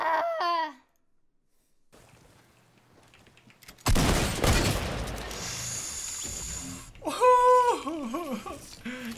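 Gunfire in the video game Fortnite: a loud burst of rapid shots cracking and ringing out after a near-silent pause, with excited voices heard briefly before and after.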